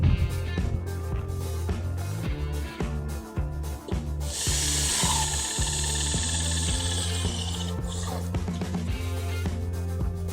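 A power drill drives tech screws into aluminum clips on a picket railing, with short repeated whirring bursts, then a longer steady high-pitched run, loud and close.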